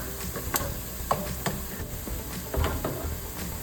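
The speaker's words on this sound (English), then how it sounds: "Sauteing." Ingredients for red lentil dahl sautéing in a pan: a steady soft sizzle with occasional clicks and scrapes of stirring, fairly close, no talking.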